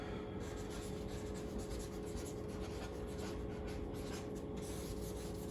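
A marker scratches steadily across a surface to write out the ATLTF Build-Off 2022 entry by hand, a continuous close, dry rubbing with no pauses and no talking.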